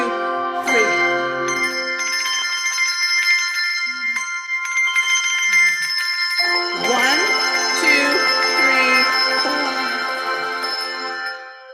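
Handbells rung in a workshop, with long ringing tones stacking into sustained chords and fresh strikes entering near the middle, a faint voice briefly audible underneath.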